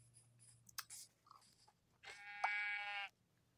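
Sheep in Minecraft give a bleat that starts near the two-second mark and lasts about one second. It is moderately loud and comes after quieter game sounds and clicks, with no talking over it.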